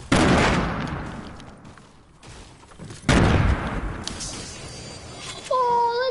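Grenade explosions in Fortnite: two loud, sudden booms a few seconds apart, each decaying into a rumbling tail, followed by faint electronic game tones.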